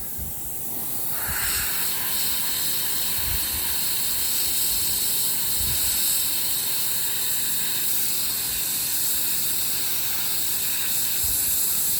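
A slightly clogged airbrush spraying paint onto a miniature storm giant gives a steady, close airy hiss with a faint sputter near the start, continuous and even throughout.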